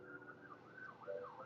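Sirens wailing outside, faint and distant, rising and falling in slow sweeps against a quiet background.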